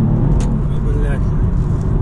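Engine of a stage 1 tuned BMW 315 revving loudly as the clutch slips in fourth gear, a dense, steady roar with someone talking over it.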